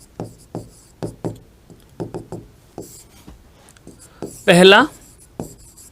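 Chalk or marker tapping and scraping across a board in quick rhythmic strokes during a Hindi lesson on poetic meter, loud and close, with a brief word spoken and a short burst of talk near the end.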